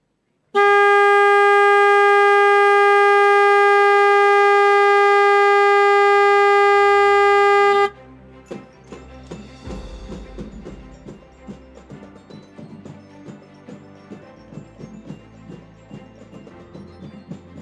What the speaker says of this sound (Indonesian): melakukan penekanan tombol klakson dan penanda tanganan prasasti